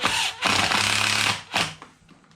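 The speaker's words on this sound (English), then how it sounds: "If you're going to be using a hole saw on something small, just secure it to a piece of wood." A hole saw bores through a small piece of scrap steel clamped to wood, a loud harsh grinding burst that runs about a second, breaks off, and returns briefly before fading.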